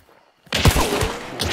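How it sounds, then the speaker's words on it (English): Gunfire from the video game Hunt: Showdown erupts after a near-silent opening, with a loud burst of several close shots and a dense rattle of further shots lasting to the end. "Just shooting at him."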